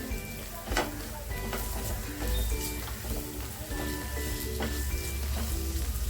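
Okra pieces coated in besan (gram flour) frying in oil in a pan, a dense continuous sizzle with scattered pops and light crackle, close and fairly loud throughout.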